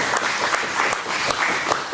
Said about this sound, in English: big round of applause for Ionic for sponsoring the food